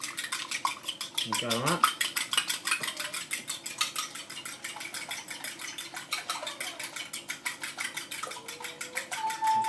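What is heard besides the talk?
beating fruit cake batter with milk in a bowl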